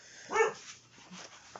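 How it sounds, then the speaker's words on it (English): A single short burst of dog barking rises close by, followed by a couple of faint yips and quiet background noise. "excuse my dog barking in the background"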